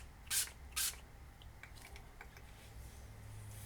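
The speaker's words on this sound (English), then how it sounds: "7 sprays of leave-in conditioner" Two quick hissing bursts of a pump spray bottle misting leave-in conditioner onto wavy hair, close and distinct, followed by soft faint rustling.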